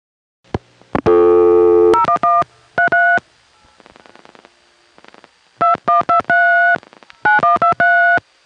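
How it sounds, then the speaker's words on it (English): Vintage 1970s telephone line with rotary dial pulses and touch-tone crosstalk: bursts of paired dialing tones, a sustained tone and faint clicking, separated by short silences. "You'll notice that during and after my dialing of the number, you can hear both rotary dial and touch tone crosstalk."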